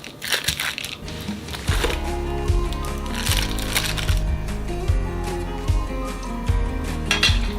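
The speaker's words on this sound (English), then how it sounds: "cut up this Velveeta cheese into small chunks so it melts down easily" Velveeta cheese and cream cheese being cut into small chunks for a slow cooker chili cheese dip, a steady run of crunchy knife chops and clinks against a board, close and fairly loud, with no talking.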